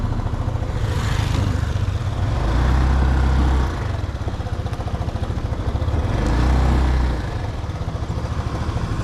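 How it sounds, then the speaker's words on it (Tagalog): Vehicles pass by on a Taipei street, engines swelling up close and fading in two broad waves over a constant low traffic rumble. "Padaanin muna natin yung sakyan."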